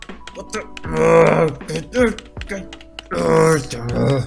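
A computer keyboard with a key that isn't working is typed on, with short runs of clicking keystrokes between loud vocal groans and exclamations.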